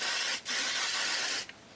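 Two short hissing bursts from a spray bottle of product, close and fairly loud, separated by a brief pause.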